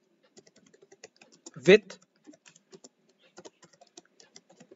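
Light keystrokes on a computer keyboard as a search is typed into a web browser, soft scattered clicks throughout, with a single spoken word partway through.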